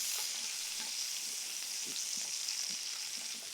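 Onion frying in a pan for vegetable semiya gives a soft, continuous sizzle with faint, scattered taps of stirring, fairly quiet and without any talk.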